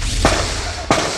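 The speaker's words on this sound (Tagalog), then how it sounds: "umaalingaw-ngaw ang mga putok ng baril" Several sharp, loud gunshots crack out during a violent incident in Sim, the Philippines, two main blasts spaced under a second apart plus a fainter third, each ringing with echo over steady background noise.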